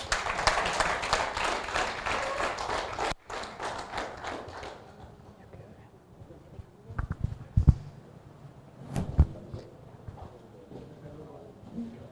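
Applause from an audience at a forensic summer school ceremony, with dense clapping for the first few seconds that then fades, followed by a few scattered thumps and taps.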